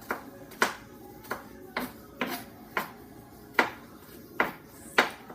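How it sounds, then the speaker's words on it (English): A knife roughly chops onion on a cutting board in sharp, evenly spaced thuds, about a dozen close knocks in a loose steady rhythm, with no talking. "So I'm just roughly chopping the onion up into bite-sized pieces."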